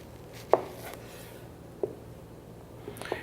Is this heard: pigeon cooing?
no